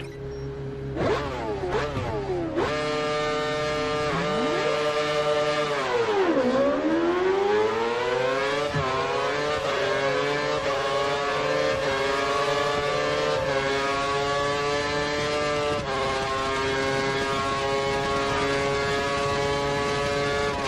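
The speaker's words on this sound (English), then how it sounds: "you've got a car ahead of you who looks to be practicing their race" Race car engine in the F1 2013 video game, a loud sustained whine whose pitch rises and drops through gear changes as the car accelerates, with no talk over it.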